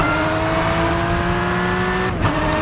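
A Porsche GT3 Cup car driving in the rFactor 2 racing game at the Nürburgring, a loud steady engine drone with a brief dip and change in tone near the end.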